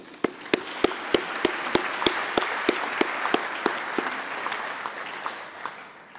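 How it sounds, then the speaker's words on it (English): Audience applause in a closing plenary hall at the UN Environment Assembly: a steady wash of many hands with sharp, distinct claps standing out at a regular pace, thinning gradually toward the end. "Let's give them applause also"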